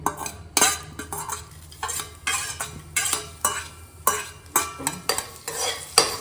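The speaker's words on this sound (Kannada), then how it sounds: "ಫ್ರೈ ಮಾಡೋಣ" Food frying in a pan for chutney, with rhythmic scraping strokes of a spatula against the pan about twice a second over a soft sizzle, close and fairly loud.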